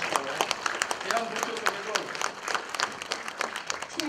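Applause from the audience at a Buddhist ceremony, with many hands clapping in a steady, crisp patter over a moderate hall ambience while a speaker's amplified voice continues over it.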